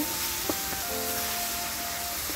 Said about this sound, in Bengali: আবার একটু নেড়ে চেড়ে ভেজে নেব